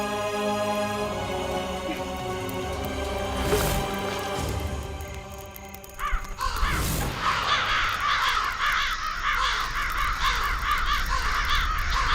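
Crows caw repeatedly at close range, loud and harsh. There is a brief clatter around the middle, followed by a busier stretch of cawing and background noise.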